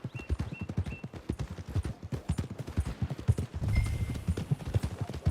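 A horse's hooves clip-clop at a brisk, steady gait in Red Dead Redemption 2. Close and rhythmic, the steps carry over faint ambient game sounds, with a brief low rumble near the end.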